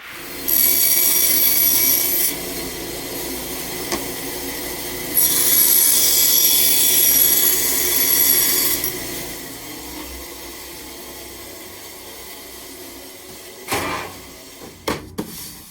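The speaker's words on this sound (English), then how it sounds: "This I'll cut on the bandsaw." Bandsaw cutting a wood piece for a saw horse in a wood shop: two bursts of hissing, rasping cutting noise a few seconds each, then a quieter running hum and a few sharp knocks near the end, no talk.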